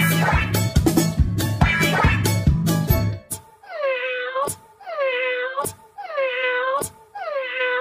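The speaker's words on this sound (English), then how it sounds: "No, that's that's a cat." A cat meows repeatedly, five or six drawn-out, wavering cries spaced about a second apart, loud and close, following a burst of rhythmic music with sharp beats at the start.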